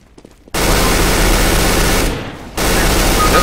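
Automatic gunfire in the video game CS:GO, a dense sustained burst of rapid shots that briefly drops off then resumes, loud and continuous after a faint start.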